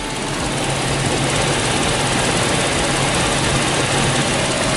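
A used car engine idles steadily and loudly, a constant low rumble with an even hum and no change in pace.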